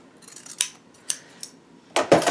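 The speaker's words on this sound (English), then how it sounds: "we're just going to cut on that diagonal line, and I'm just going to do that with scissors." Scissors snipping through quilting fabric pieces along a diagonal line, a few short crisp cuts spaced apart and ending in a louder double snip, close and alone.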